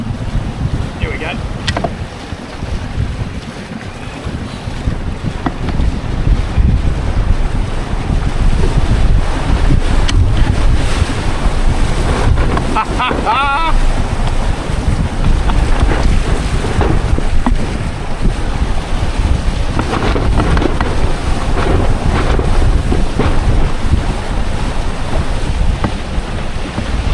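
Strong wind gusts buffet the microphone aboard a Windrider 17 mini trimaran sailing at around six to ten knots, a loud, continuous roar that swells and eases with water rushing alongside.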